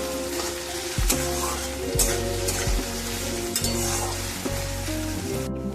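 Chopped ginger stirred in a hot pan for sago pulao, with a steady loud sizzle and a spatula scraping roughly once a second in a regular rhythm.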